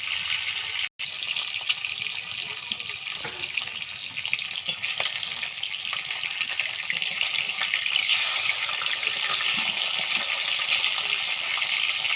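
Fish frying in a pan of hot oil for a cumin-paste fish curry: a steady, hissing sizzle close by that grows slightly louder toward the end, with one brief dropout early on.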